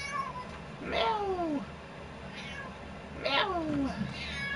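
A domestic cat meows twice, close by, each call a drawn-out, falling wail with a pause between, over a low, steady background hum.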